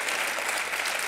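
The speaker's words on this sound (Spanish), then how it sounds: "un fuerte aplauso." A short burst of audience applause at a Galician energy awards evening, an even patter of many hands clapping at moderate level across the whole moment.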